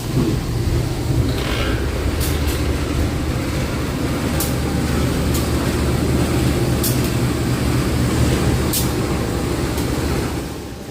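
The Tawang Alun passenger train rolls into Malang station, a steady low rumble of wheels and carriage noise with a few sharp clicks and clanks, heard from inside the coach.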